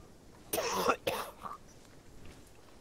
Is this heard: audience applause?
no